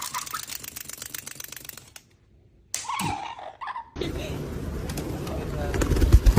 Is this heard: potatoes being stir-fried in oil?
no